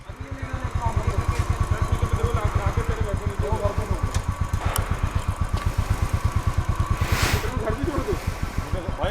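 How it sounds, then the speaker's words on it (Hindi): A Royal Enfield Bullet motorcycle runs close by after six months unused, its single-cylinder engine thumping in a steady, loud rhythm throughout, with a person's voice briefly audible over it. "6 महीने बाद निकली है बुलेट इसकी है बाहर।"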